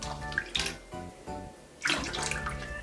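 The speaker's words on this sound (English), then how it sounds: "I'm also just gonna rinse it out." Running water splashes steadily as a cheap, shiny synthetic party wig is rinsed out, with short bursts and pauses in the flow and a louder, fuller gush near the end.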